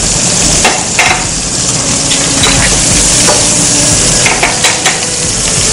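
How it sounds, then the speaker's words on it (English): Mushrooms roughly sautéing in a pan with garlic, a steady close sizzle with scattered utensil scrapes and stirring clicks throughout, no talk. "To roughly saute the mushrooms."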